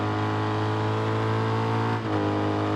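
A Triumph motorcycle races in RIDE 3, its engine roaring loud and sustained, holding a steady high-revving tone with a brief dip as it shifts, no talk over it.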